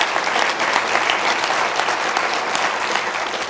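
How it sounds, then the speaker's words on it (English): An audience at a talk on male birth control clinical trials gives a sustained, loud round of clapping, with even, continuous applause throughout and only a faint trace of voices. "I'd like to have a nice round of applause for the two who volunteered to come in."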